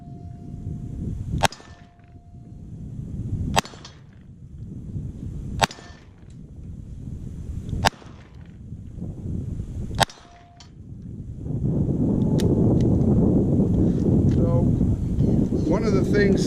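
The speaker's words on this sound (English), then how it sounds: "Very soft shooting. This has got cowboy loads in it right now." Smith & Wesson Model 25 revolver firing soft cowboy loads outdoors, five sharp evenly spaced shots about two seconds apart, followed by wind rumble and some clinking.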